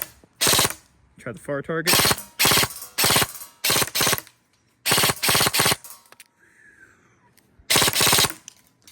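Lancer Tactical airsoft gun firing full auto in rapid bursts of buzzing shots, each burst a second or less, separated by short gaps, with a brief voice speaking between bursts.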